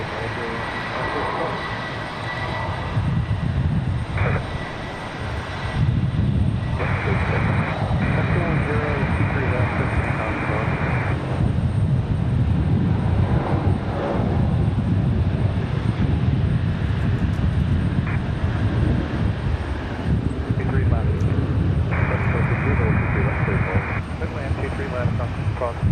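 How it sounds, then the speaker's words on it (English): An Avelo Airlines jet taxis toward the end of the runway at Raleigh-Durham International Airport, a loud steady engine roar filling the whole stretch with a person talking over it. "You guys saw a Velo headed out to the end of the runway."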